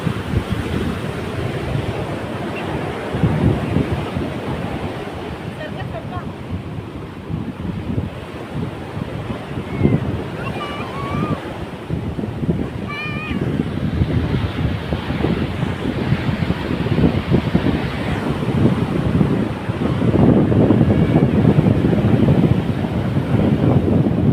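Big waves crashing and surging at Munage beach on the sea shore, a loud continuous roar of surf mixed with gusting wind buffeting the microphone.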